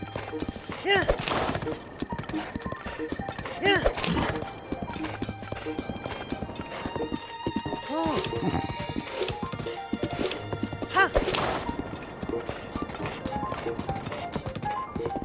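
A horse gallops across mountain terrain in The Legend of Zelda: Breath of the Wild, its hooves a steady, rhythmic clip-clop with occasional whinnies and snorts, heard under someone talking and game music.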